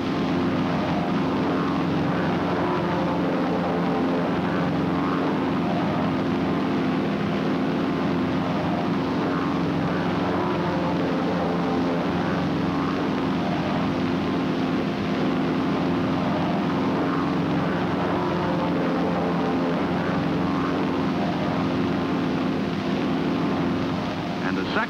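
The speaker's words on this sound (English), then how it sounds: "To then form left echelon, the number two plane flies back across first." Propeller airplanes flying in close formation, with a continuous loud engine drone and propeller hum holding steady throughout, overlaid by someone narrator explaining the maneuver.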